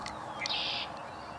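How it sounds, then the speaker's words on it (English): A bird sings near and fairly clear in a short burst of whistled phrases, one sustained bright note in the middle, over a steady background hiss and outdoor noise. "Definitely hearing robin."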